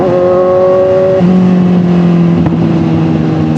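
A big bike motorcycle engine hums loud and close, its steady tone dropping in distinct steps as the rider downshifts, with smooth blips between gears and no voices.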